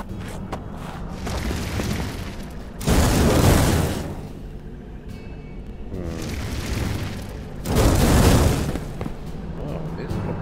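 Two loud booming explosion bursts from the video game Rfvr, each lasting about a second a few seconds apart, over a steady background of game sound.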